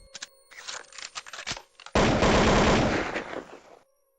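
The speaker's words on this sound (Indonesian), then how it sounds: "Terdengar suara ledakan senjata dari serdadu Belanda, menembaki kedua harimau yang menyerang secara tiba-tiba." Rifle gunfire from Dutch soldiers, as a sound effect: scattered rapid shots crackle first, then a dense, loud sustained volley of fire blasts for nearly two seconds before cutting off.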